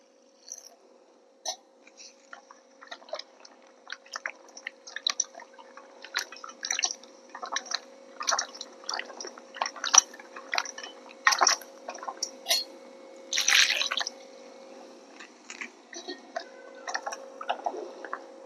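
Small eggplants being washed by hand in water for a stuffed Punjabi masala dish, giving soft irregular splashes, drips and squishy rubbing through the whole stretch, close and moderately quiet, with no talking.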